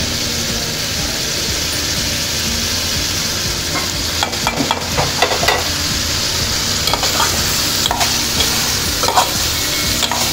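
Elephant yam pieces fry and get stirred in hot oil with masala powder, giving a steady loud sizzle with scraping ladle strokes clustered in the second half.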